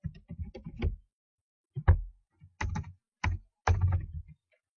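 Close keyboard typing in short bursts of clicky keystrokes separated by pauses, with the last few presses sounding as heavier single taps; no voices.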